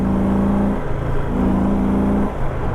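An Indian Roadmaster motorcycle accelerates hard on a bigger open A road, its steady, loud engine drone rising in pitch in two surging pulls with a brief dip between, close and continuous without talk.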